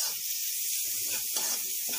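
Meat frying in a pan with aromatics for chop suey gives off a steady, close sizzle with soft crackles. Faint stirring scrapes sit underneath, and there is no talk.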